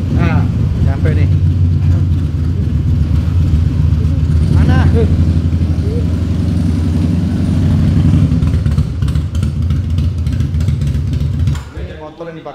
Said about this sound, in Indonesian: Ini motor gua nih, Moto Guzzi.